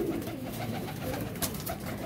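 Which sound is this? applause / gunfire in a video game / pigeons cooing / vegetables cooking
pigeons cooing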